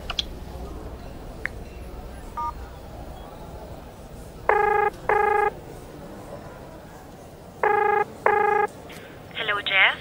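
A phone call rings out through the handset: a few faint clicks, then two pairs of ringback tones in a steady repeating pattern, with a brief chirp at the end.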